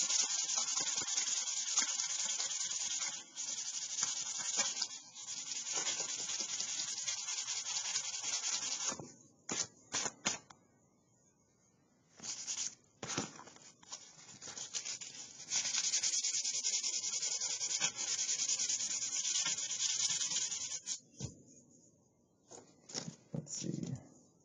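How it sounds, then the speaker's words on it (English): Sandpaper rubbing over milk paint on a small twig pot, giving close, steady hissing strokes in long runs, broken by short pauses and brief scrapes. "So let's sand over the front and see what happens."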